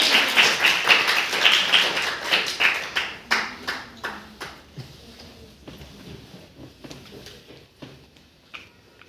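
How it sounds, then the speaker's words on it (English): A small group claps in a steady rhythm at a university speaking club event, loud at first and gradually thinning out into scattered claps. "Please give a round of applause for her."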